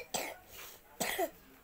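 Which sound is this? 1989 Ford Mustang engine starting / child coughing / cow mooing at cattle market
child coughing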